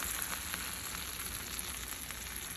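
Eggs fry in melted butter in a pan, giving off a steady, close crackling sizzle with tiny pops throughout and no talking.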